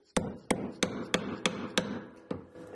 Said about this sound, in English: Again, with the plastic hammer, so it doesn't deform our material. I am just going to tap it like so.